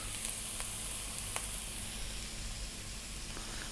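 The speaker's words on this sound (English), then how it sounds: "Okay, I'm going to fry this around medium heat or just above a medium heat for about 3 or 4 minutes." Eggplant frying in a pan over medium to medium-high heat gives a steady, close sizzle with a few faint clicks, continuous and unbroken with no talking.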